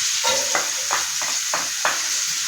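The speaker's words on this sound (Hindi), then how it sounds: "इसमें प्याज डाल देते हैं" Onions frying in hot oil in a pan for aloo samosa filling give a steady close sizzle, broken by a series of scraping stirs at a regular pace.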